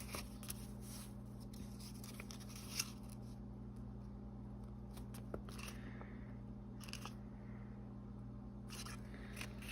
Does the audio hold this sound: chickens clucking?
no